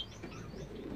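A pigeon in a backyard loft gives soft, low cooing, faint and close against quiet background hum.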